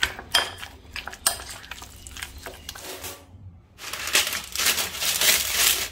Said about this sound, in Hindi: सो इसको अच्छे से मिक्स करके एक मैरिनेशन बना लेंगे